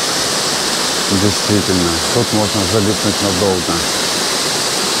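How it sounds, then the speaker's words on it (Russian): A waterfall in a canyon at the Olginsky waterfalls in Abkhazia roars with a loud, constant rushing that stays steady while a person talks over it. "Мы подошли поближе к водопаду."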